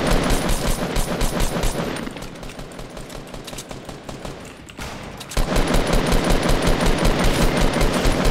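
Sustained automatic gunfire in the video game Fortnite, loud rapid bursts of shots that drop to a quieter stretch midway, then return at full intensity.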